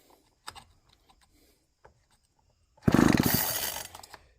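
A neglected chainsaw clamped in a vise is pulled over and briefly catches, giving a loud, rough burst of engine roar for about a second and a half after some quiet clicks and handling noises.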